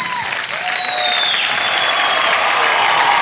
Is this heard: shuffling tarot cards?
no